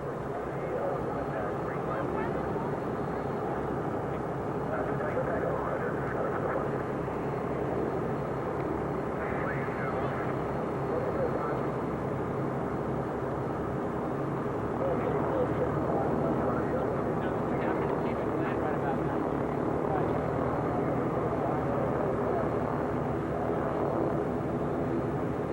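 A Northrop N9MB flying wing on a post-restoration test flight drones steadily with a continuous engine hum throughout, in an open outdoor setting with faint voices at times.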